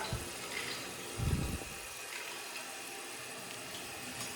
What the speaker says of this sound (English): Now it's filling up